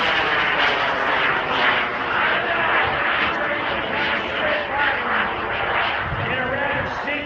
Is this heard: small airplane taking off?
yes